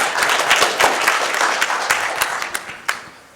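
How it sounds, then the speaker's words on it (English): An audience at a talk on free speech and schools claps in a loud burst of applause that thins and fades out over a few seconds, with some individual claps standing out near the end. "Never miss an excuse for applause."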